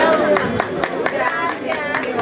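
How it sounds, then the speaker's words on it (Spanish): A crowd at a patron saint festival for the Señor de Ccechccamarca claps in a steady, rhythmic beat, sharp hand strikes repeating several times a second over a bed of music and murmuring voices. "Un voto de aplausos"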